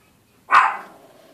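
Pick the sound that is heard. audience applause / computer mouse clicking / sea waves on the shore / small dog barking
small dog barking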